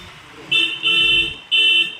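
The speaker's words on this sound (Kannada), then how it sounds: "ಒಂದು ಕಡೆ ಹಿಂದ್ಗಡೆ ಬರ್ತಕ್ಕಂಥ ವೆಹಿಕಲ್ ಒಳ್ಳೆ ಹಾರನ್ ಮಾಡ್ತಾ ಇದ್ದಾರೆ" A vehicle horn honks three times from behind in city traffic, the blasts loud and close, the second one held longest.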